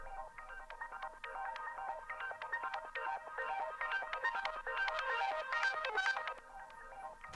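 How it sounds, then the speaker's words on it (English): Reversed, pitched-down sample forming a shimmering background tail texture, with dense repeating tonal blips swelling steadily in a continuous electronic wash at low volume. "We just took the exact same file, dropped it down, and reversed it to give this really fun tail sort of sound."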